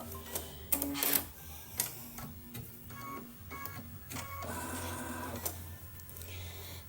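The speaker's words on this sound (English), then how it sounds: "So it's stitched a placement line for the batting." A Brother Luminaire embroidery machine stitches a placement line for batting on a Kimberbell mug rug, giving a steady mechanical whir with rapid repeated needle clicks and a few sharper knocks, close and moderately loud, with no talking.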